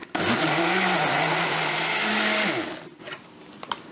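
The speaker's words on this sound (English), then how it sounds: "We're just going to blend this up real quick and then put it in a loaf pan" Small blender whirring through French toast egg loaf batter, a loud, steady motor whine for about two and a half seconds before it cuts off, followed by a few faint clicks.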